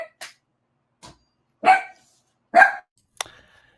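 A dog barks in the background of a basketball podcast: several short, sharp barks spaced apart, moderately close, with quiet gaps between them.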